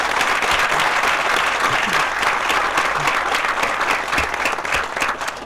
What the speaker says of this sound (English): Can we give them a beautiful round of applause?